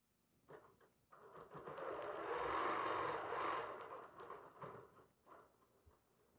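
A BERNINA sewing machine stitches a quilted autumn wall hanging with a fast, steady whirring hum that swells in the middle and then slows into a few short bursts.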